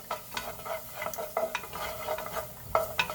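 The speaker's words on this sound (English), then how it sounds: "I now have my oil and my garlic, some onion and carrots going in the bottom of my skillet here" Garlic, onion and carrots fry in oil in a skillet for lentil and potato soup, a soft steady sizzle broken by close, irregular scrapes and clinks of stirring.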